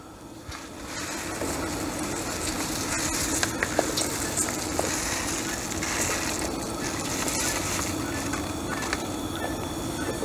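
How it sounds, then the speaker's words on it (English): Rice goes into a hot pan at a camp chuck box and is stirred. It gives a loud, continuous sizzle and crackle close up, with occasional scrapes and no talking. "we're going to add in our rice and we're going to stir it in."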